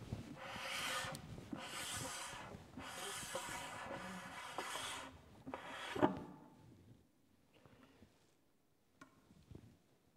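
A midrange horn pulled out of a speaker cabinet, with several bursts of close rubbing and scraping, then a knock and faint handling noises.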